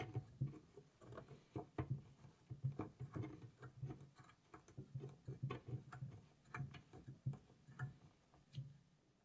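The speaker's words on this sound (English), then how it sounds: "With the Allen key tool grabbing in the corner of the bolt and locking down" An Allen key turns and locks down the bolt holding a spike onto an outdoor lawn light, giving a close, faint run of small rhythmic clicks and ticks at a steady pace with no talk.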